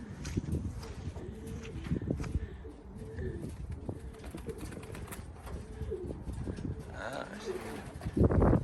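Low, throaty cooing from fighting pigeons repeats in soft bursts close by, with wing flutters and shuffling, and a person talking faintly over it.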